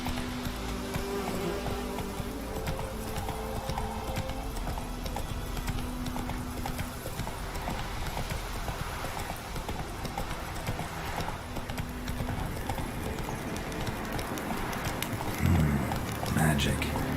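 Horse hooves clip-clop at a fast steady gait across open ground in The Witcher 3: Wild Hunt, rhythmic and close, with insect-like buzzing and ambient wind beneath and a brief louder jolt near the end.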